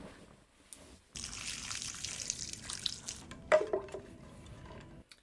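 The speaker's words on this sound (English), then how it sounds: "She dumped out her water." Water poured out and splashing onto the ground, a steady close spill lasting a couple of seconds followed by scattered drips and patters.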